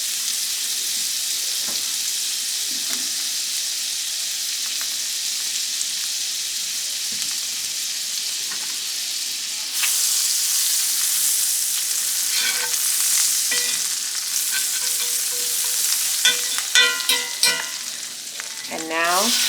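Butter sizzling in a pan left from cooking steaks, a steady hiss that swells louder midway, then crackles and spits sharply with bursts of bubbling toward the end; close, no speech.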